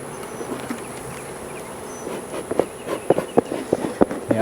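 Honey bees drone steadily in an open hive that may have lost its queen. The buzzing stays close and continuous, and sharp clicks and knocks of frames being handled sit over it.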